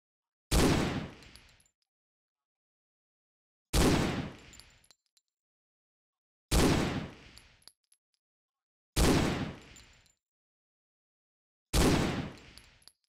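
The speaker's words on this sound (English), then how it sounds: "When firing, brace yourself for the recoil." Five loud single blasts from a Browning Automatic Rifle in the Hidden & Dangerous 2 game, each a sharp crack with a short decaying tail, spaced about every two and a half seconds with silence between.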